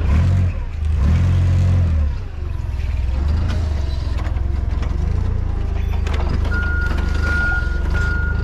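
A forklift drives backwards, its reversing alarm beeping steadily over the loud engine rumble, with mechanical clunks and a rising tone near the end.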